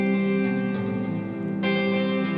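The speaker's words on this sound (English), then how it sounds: "Here's just a long reverb." Guitar chords wash through a long reverb heard only from the right side, lingering tails blending between strums, with a bright new chord entering near the end, no voices.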